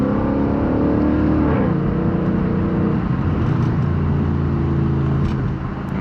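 A 2023 Mustang GT with a Magnaflow NEO exhaust accelerating hard past walls, a loud continuous engine roar rising in pitch then dropping at a gear change and climbing again, no talk.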